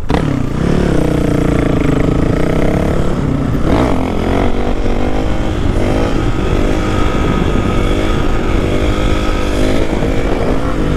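A dirt bike engine revs loud and close, rising and falling in repeated throttle bursts as the rider pulls wheelies on a road, with rough, raspy exhaust throughout.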